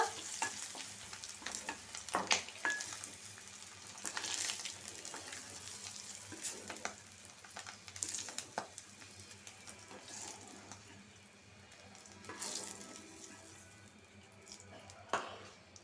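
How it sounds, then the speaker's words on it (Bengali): Eggs fry in hot oil in a Bengali home kitchen, a steady crackling sizzle with scattered sharp pops and spatula scrapes, fairly quiet and close, no voices heard. "ডিমটা বাজা হোক"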